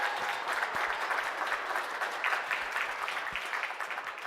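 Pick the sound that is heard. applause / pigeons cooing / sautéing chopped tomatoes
applause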